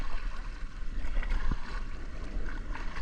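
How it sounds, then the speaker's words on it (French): Canoe paddled on the sea, with a steady wash of water and wind across the microphone and one sharp splash-like knock midway; no talk is heard. "Pagayer, pagayer."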